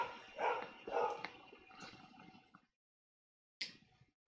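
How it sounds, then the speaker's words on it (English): A pet dog barks in a house, a pair of close, loud barks followed by a softer yip and, after a short silence, one more bark. "I don't know why she's barking."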